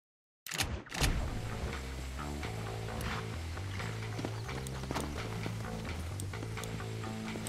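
Horse hooves clip-clop in the Western video game Red Dead Redemption, steady walking beats running through the whole stretch beneath a continuous music score, with no talking.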